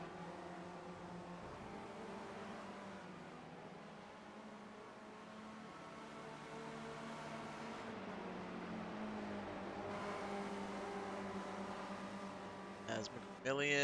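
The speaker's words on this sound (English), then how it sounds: "A legit racing car trying to make up ground as quickly as possible." Racing car engine in a sim racing game at Mid-Ohio Sports Car Course, a steady loud drone with shifting pitch, rising and falling as the car pushes to make up ground; a brief sharp burst near the end.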